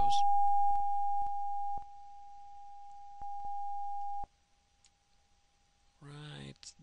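A steady pure sine tone holds at one pitch and then drops in loudness in steps as a listener moves through zones of destructive interference, with scattered clicks. It cuts off near the end, and a voice speaks briefly.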